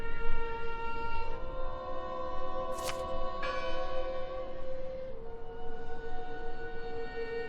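A church bell in the horror game Draugen rings with sustained, layered metallic overtones hanging over a low rumble, joined midway by a sharp high click, no speech.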